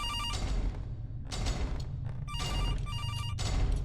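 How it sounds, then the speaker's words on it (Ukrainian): A telephone rings in the animatronics survival horror game CASE 2, repeated electronic bell bursts in a steady on-off rhythm over a dense, rumbling game soundtrack. "мені треба десь знайти телефон, який дзвонить"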